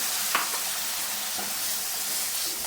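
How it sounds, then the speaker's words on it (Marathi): Loud, steady sizzling of a spice tempering in hot oil with brinjal for a lentil and brinjal curry, with a brief stirring clatter near the start and softer scrapes later. "मस्त अशी फोडणी बसले"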